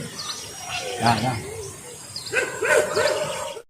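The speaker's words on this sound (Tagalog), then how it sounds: "Nag-iyakan yung mga aso." Several dogs whine and yelp in high, wavering cries, overlapping in short bursts, fairly close with some background chatter.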